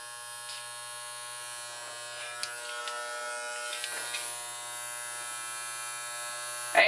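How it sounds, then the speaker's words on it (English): Electric hair clippers edging a hairline on a man's head, a steady close mechanical buzz with strong harmonic hum, small scraping contact noises as the blades move along the line, no talking. "you just take your clippers and just go around that line there"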